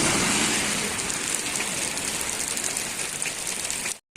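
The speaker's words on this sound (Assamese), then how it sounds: "বৰষুণ মানে কি বাঢ়ি আছে, কমা নাই, বাঢ়ি আছে।" Heavy rain pours steadily in Tamulpur, Assam, a dense, even hiss that continues alone until it cuts off abruptly at the end.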